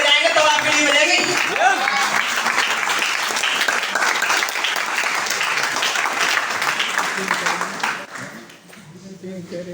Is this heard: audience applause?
yes